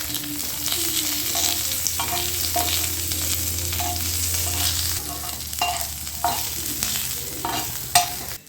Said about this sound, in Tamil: நெக்ஸ்ட் பூண்டு போட்டுக்கலாம். இப்படி நல்லா ஃப்ரை ஆனதும் அதுக்கப்புறம் தான் முட்டை போடணும்.